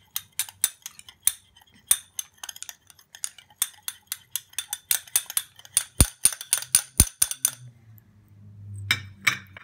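Spoon or utensil clinking and scraping in a bowl while homemade hand lotion is mixed with rose water, with quick repeated taps in a steady rhythm, close and fairly loud, and no talking.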